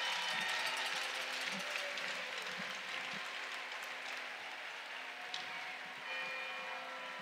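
Sustained applause fills a hockey arena at an RIT versus Mercyhurst men's game, a dense, steady wash of clapping from a large crowd that carries evenly through the whole stretch with no talk over it.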